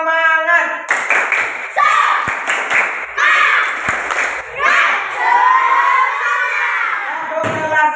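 A Year 4 class in an Indonesian classroom performs a rhythmic cheer clap, bursts of loud patterned clapping mixed with children chanting and shouting together, close and lively throughout.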